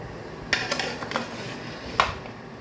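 Afghani malai chicken served from a pan onto a plate, a few sharp clinks and scrapes of a utensil against metal and ceramic, quiet and close with pauses between.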